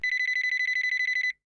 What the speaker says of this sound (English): The phone rings and he answers it.